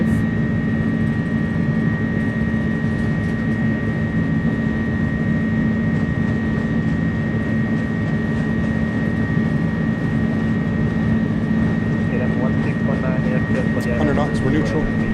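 Pratt & Whitney-powered Airbus A300 jet engines at takeoff power in Microsoft Flight Simulator, a loud steady roar with constant tones running throughout, with speech over it.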